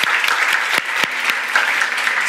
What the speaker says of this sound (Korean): 우리 다 청년이니까 우리 모두에게 다 한번 큰 축복의 박수.